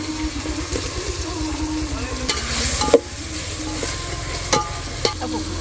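Tomatoes and spices frying in hot oil in a home kitchen give a steady close sizzle with stirring scrapes and a few sharp clinks, while voices talk over it.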